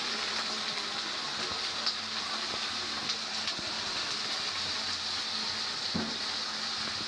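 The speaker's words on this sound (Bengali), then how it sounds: "আমি মাছটা ভেজে নিব।" Fish fries in a pan with chopped onion, a steady, quiet sizzle and crackle continuing evenly throughout with a few small pops.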